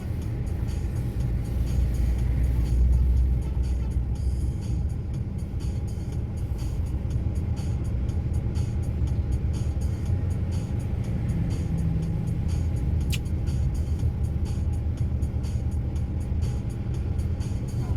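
A car rumbles steadily up close with a low engine drone that holds throughout, loud and continuous, with no talking.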